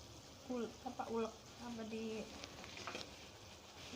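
Blended chili hitting simmering beef rendang gives a soft sizzle and bubbling, close and moderate, while a voice talks over it.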